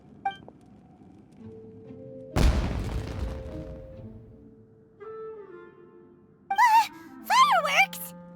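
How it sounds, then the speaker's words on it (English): A loud fireworks-style explosion booms in the Genshin Impact video game, a sharp blast that decays over a couple of seconds, then rising whistling and squealing effects follow near the end amid quiet game ambience. "It sounded like fireworks."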